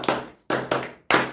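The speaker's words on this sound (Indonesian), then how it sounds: "Begini kita tepuk tangan terakhir." A classroom of young pupils clapping hands in unison during a lesson, four sharp, loud group claps in an uneven rhythm with short pauses between them.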